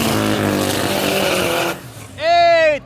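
A turbo Chevette and a Gol 4x4 drag race, with a loud, dense engine roar that cuts off abruptly. After a brief lull, a sharp tonal whine or squeal rises and falls, and voices can be heard.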